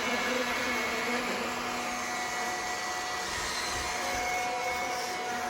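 An iRobot Scooba mopping robot runs with a steady, even motor whine and whir, close and unbroken throughout.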